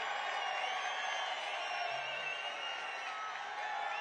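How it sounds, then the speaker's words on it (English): A large crowd at a Donald Trump rally in Albuquerque, New Mexico, makes a dense, steady roar of cheering and voices that fills the whole stretch without a break. "This is a hell of a big crowd."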